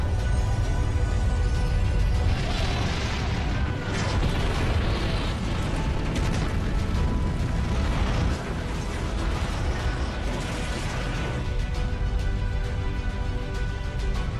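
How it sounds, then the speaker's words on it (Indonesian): A massive building explosion roars in a dense, sustained blast with rumbling low end that fills the whole stretch at full loudness, no voices. "Ledakan begitu dahsyat"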